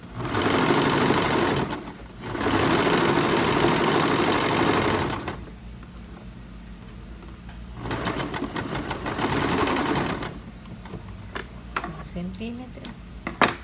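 A sewing machine stitching the shoulder seam of a blouse, running in three sustained bursts separated by quiet pauses, near and fairly loud, with small handling clicks toward the end.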